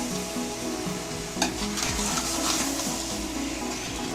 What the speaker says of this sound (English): while mixing, be very gentle so as to not to break the rice grains